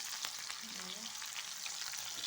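Chopped onions and two green chilies frying in oil in a pan for a goat meat dish, making a faint, continuous sizzle with light stirring and no talking.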